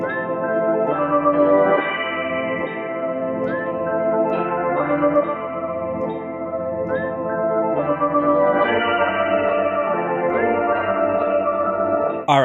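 A chopped synth sample group from the Satin Looks expansion, low pass filtered with a short fade after each chop, plays as dense layered chords that stutter along in rhythmic slices, steady and fairly loud, without any talking.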